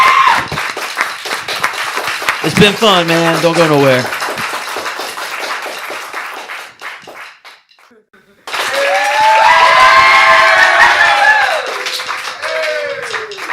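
Crowd clapping and cheering for a band at a live music showcase, heard under a host speaking, then fading briefly before a loud burst of cheering and applause returns.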